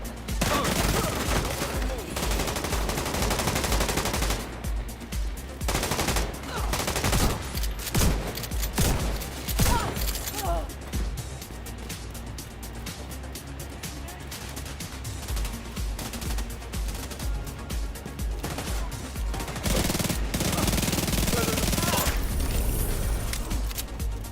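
Sustained gunfire in The Division 2 video game: dense bursts of automatic and single shots, loud and near, continuing almost throughout with brief lulls, mixed with game effects.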